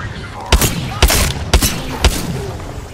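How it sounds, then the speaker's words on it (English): Four evenly spaced, loud gunshots ring out about half a second apart in Apex Legends, each a sharp crack with a short echoing tail. "I'm getting shot from a different direction, dude"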